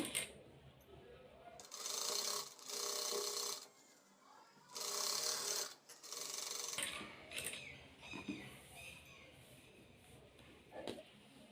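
Sewing machine stitching a straight seam on a blouse piece with canvas lining, running in several short bursts with pauses between, close and fairly clear.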